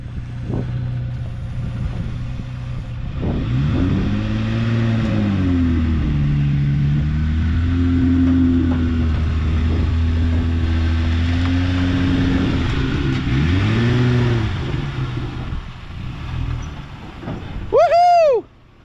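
A Jeep JT climbing homemade metal ramps onto a haul trailer, its engine rising and falling in pitch as it revs and strains, loud and close, followed by a sharp whistle-like rising sweep at the end.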